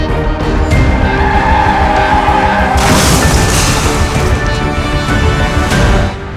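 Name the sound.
car and motorbike collision with skidding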